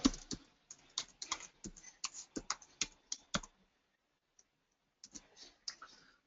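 Typing on a computer keyboard while code is entered during an Android programming class: quick bursts of close, crisp key clicks, then a brief quiet pause, then a few more scattered taps.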